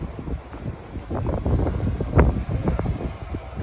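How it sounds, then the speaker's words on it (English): Steady wind buffets the microphone on a high Appalachian Trail ridge near the Smokies, with low rumbling gusts and occasional rustling. "It's pretty windy up here."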